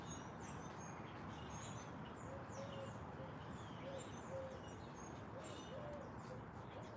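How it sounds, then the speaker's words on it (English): Soft, repeated hooting bird calls sound at a distance over a constant low background hum, spaced a second or two apart. "Oh, you can hear the bird."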